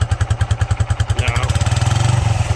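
A 125cc two-stroke motorcycle engine revs up close and loud, its rapid buzzing pulses quickening and rising in pitch over a couple of seconds.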